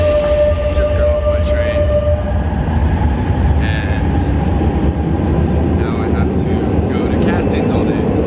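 A train rumbles along the rails with a loud, steady low roar and faint squeals, heard from inside a carriage.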